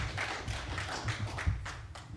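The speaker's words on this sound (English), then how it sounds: "Let's give them a round of applause for just participating." Audience applause at a Kentucky 6th Congressional District Republican candidate forum, a steady patter of many hands clapping throughout, moderately loud with no voices over it.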